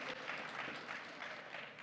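A conference audience breaks into steady applause and cheering at a SharePoint, PowerApps and Flow presentation, a dense, even wash of clapping that holds for a couple of seconds with no talk over it.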